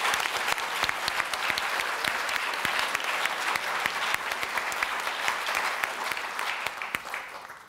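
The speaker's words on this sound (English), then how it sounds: "I would ask you to give them a round of applause" A lecture audience applauding steadily, dense clapping from many hands that holds for several seconds and tapers slightly at the end.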